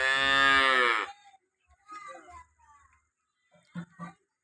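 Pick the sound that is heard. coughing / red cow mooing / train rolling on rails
red cow mooing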